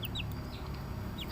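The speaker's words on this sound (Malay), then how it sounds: "Masih lagi bersuara anak ayam." A Serama chick peeps in short, high, rising chirps, a few scattered notes over a low background rumble, close by and fairly quiet.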